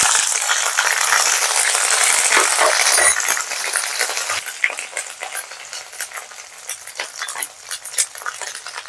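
A paste of ginger, cumin and green chili hits hot oil for a chana dal dhoka curry, first with a loud, dense sizzle, then easing into sharp, irregular pops and spatters.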